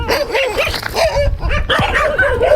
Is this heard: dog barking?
yes